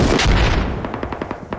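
A loud, close gunshot fires in a tactical shooter match, followed by a rapid rattle of further shots trailing off over about a second and a half.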